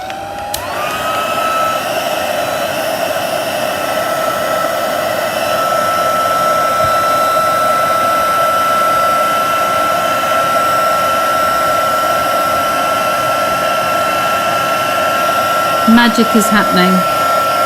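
A heat tool blows continuously and loudly close by for the whole stretch as it melts embossing powder, a steady whooshing roar that spins up at the start, with a person speaking briefly near the end.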